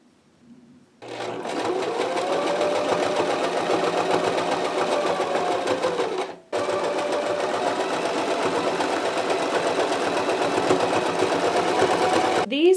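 Sewing machine stitching around the seams of a unicorn hoodie costume, running in a fast, steady mechanical whir with one brief pause midway before resuming, loud and close.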